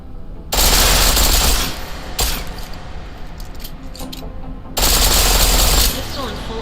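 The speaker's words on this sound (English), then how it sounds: "The pistol in full auto will take down targets fast" Rapid automatic pistol fire in Deus Ex: Mankind Divided, loud sustained bursts around a second long, separated by quieter stretches of game ambience and shell or metal clatter.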